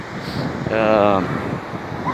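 Wind buffets a microphone at the seashore, a steady broadband roar with surf-like wash throughout, swelling briefly in the middle where a faint tonal, voice-like hum rises.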